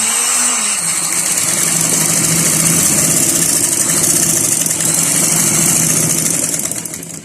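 A sewing machine stitches elastic into a pair of trousers, giving a steady, close motor whir that runs unbroken for about seven seconds and then tapers off at the end, with no talking.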